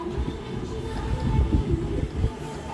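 A double-decker train bound for Kerala rumbles and rattles steadily up close, a dense low roar with faint clatter throughout.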